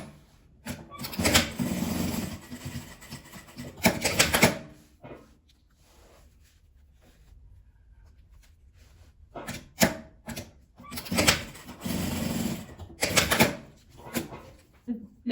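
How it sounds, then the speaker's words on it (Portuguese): Sewing machine stitching along the edge of fabric for a small multipurpose pouch, running in two loud bursts of rapid mechanical chatter with a quiet pause between them, plus brief handling clicks. "Aí que eu vou costurar daqui até aqui e daqui até aqui."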